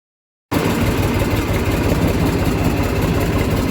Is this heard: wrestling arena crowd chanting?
no